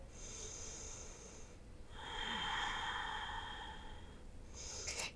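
Slow, deep breathing is held in a warrior yoga pose. There is a long, airy inhale followed by a steady, breathy exhale, close and soft and heard alone.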